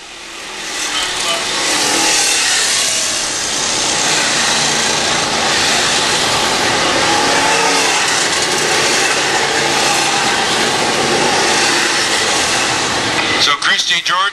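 Race cars running several wide on a speedway track at a night race, a sustained dense engine roar filling the whole stretch under continuous commentary, with a brief rattle near the end.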